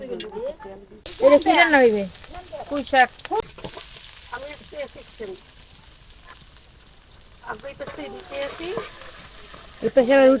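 Food fries in a pan in a village kitchen, a soft sizzle running beneath people talking close by, with brief pauses between their speech.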